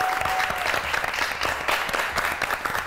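Studio audience applause, a steady dense wash of many hands clapping at close range, continuing throughout without pause.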